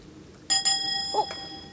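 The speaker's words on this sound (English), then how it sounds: "There's the bus bell." A bus bell rings twice in quick succession, bright clear dings with a lingering metallic ring that fades, followed by a fainter softer tone, in an otherwise quiet setting.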